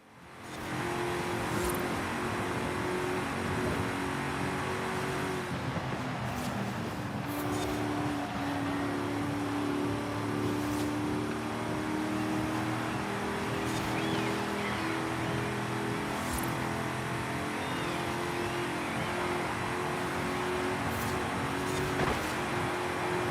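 Race car engine roaring steadily in Forza Motorsport 5, a continuous loud revving drone with shifting pitch for over twenty seconds, no talking.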